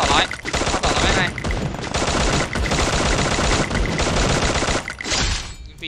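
Rapid gunfire from the Free Fire video game in a freestyle zone mode, dense continuous bursts filling the whole stretch with brief gaps, loud and close.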